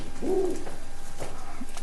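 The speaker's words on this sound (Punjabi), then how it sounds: "ਆਹ ਵੇਖੋ ਇਹ ਕਬੂਤਰ ਆਪਣੇ ਵੱਡੇ ਇਹ ਹਜ਼ਾਰ ਵਾਲੇ ਕਬੂਤਰ ਹੈ ਜੀ" A large Hazara pigeon gives a single low, soft coo at close range over a steady background hum, with no talking.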